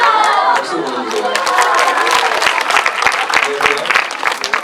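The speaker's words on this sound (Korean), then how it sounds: "박수 보내주세요." Lively crowd applause greets a mascot at a charity event, dense clapping close and bright, mixed with murmurs and a few cheers throughout.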